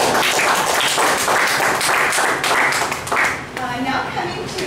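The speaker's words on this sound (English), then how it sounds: "So let's give him a round of applause" A meeting audience claps for a speaker at a Toastmasters evaluation session, a dense, steady wash of hands that thins and fades toward the end, with some background voices mixed in.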